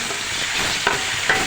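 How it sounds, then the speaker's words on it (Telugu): Ginger paste frying in a pan as a base for mutton biryani gives a steady, close sizzle with light stirring scrapes, and no one speaks. "ఇది అల్లం పేస్ట్ వేస్తున్నాను."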